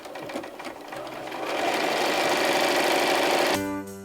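A sewing machine stitches through quilt fabric, its motor whirring up from a slow start into a fast, steady run and then winding down to a stop at the end, close and clear.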